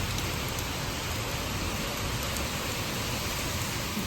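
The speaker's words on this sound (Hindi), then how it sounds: "ये तो तिरछी बारिश हो रही है पूरी।" Heavy rain driven slantwise by wind hisses steadily and loudly with no break, a dense continuous wash of drops close by.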